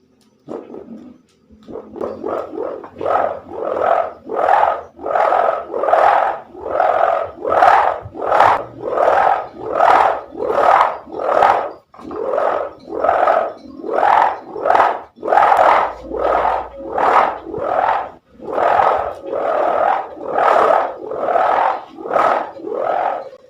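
A 2.2 m bamboo kite hummer drones loudly in regular throbbing pulses, roughly one per second, swelling and fading in a steady rhythm with no talk.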